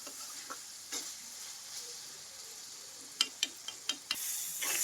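Curry simmers in a pan with a soft, steady sizzle while a spoon stirs it, and a quick run of sharp scraping taps lands near the end.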